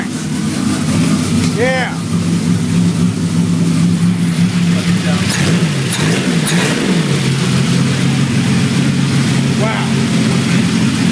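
A Buick Grand National with newly installed heads and cam runs loud and close after startup, its engine revving in rising and falling bursts over a steady rumble while people exclaim over it.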